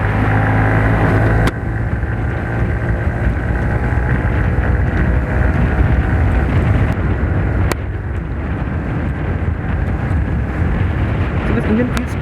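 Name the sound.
Honda SP125 motorcycle engine while riding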